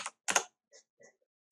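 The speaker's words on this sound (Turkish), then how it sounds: "Klavye sesinden dolayı kusura bakmayın." A mechanical computer keyboard gives a few crisp, close keystrokes: a quick pair of clacks, then scattered lighter taps after short pauses, with silence between them.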